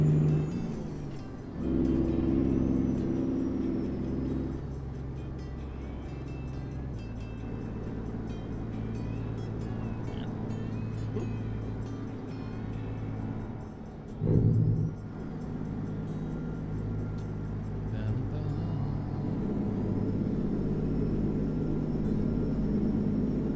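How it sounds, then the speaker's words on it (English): A turbocharged semi truck engine in American Truck Simulator rumbles steadily at close range, with a brief surge in loudness midway before settling back into a continuous drone, with no talk. "Trucks have massive turbos on them, man. They're amazingly loud."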